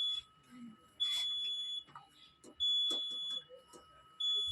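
A buzzer in the driver cab of a Vande Bharat electric train sounds as a steady high electronic tone with short louder bursts, while someone talks throughout.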